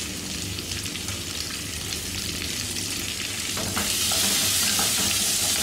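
Chopped onion sizzles loudly in a hot pan with roasted garlic, stirred as it fries; a steady close hiss that swells brighter as the onion hits the oil.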